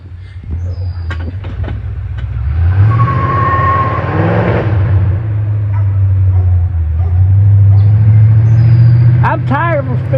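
A 1968 Ford Mustang drives on a road with its engine droning loud and steady, the pitch rising and then dropping as it shifts gear, while someone talks over it.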